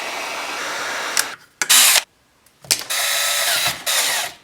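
A heat gun warming a spot on a Kydex holster to flatten it, blowing in loud, close bursts of airy whooshing that switch on and off several times with short silent gaps between.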